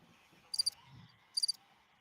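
Two brief, high chirping bursts from a soundboard cricket sound effect, spaced about a second apart, play faintly over a quiet background.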